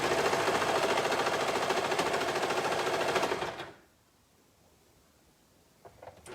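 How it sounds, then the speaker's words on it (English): A serger sewing machine stitches a knit fabric seam, running loud and steady with a rapid mechanical whir for about three and a half seconds before stopping, leaving near silence with a few faint handling clicks at the end. "you're sewing all of this with a serger or a stretch stitch because these seams will get wear and tear"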